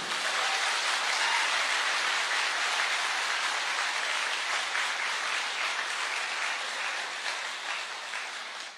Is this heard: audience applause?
yes